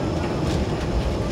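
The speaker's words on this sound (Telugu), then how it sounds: "Train journey continues." A Vande Bharat Express runs between Secunderabad and Tirupati, heard as a steady, loud, broadband rumble of the moving train throughout.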